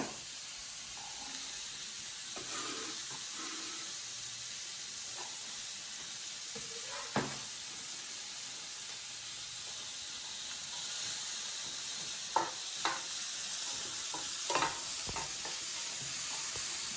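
Chilies fry in a pan over a continuous hissing sizzle, with occasional sharp scrapes and taps as they are stirred, moderately close and steady throughout.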